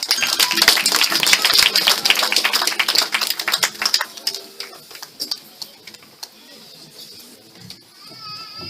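A church congregation claps at a Sunday service: dense, loud hand-clapping that thins out into scattered claps and dies away, with faint voices underneath.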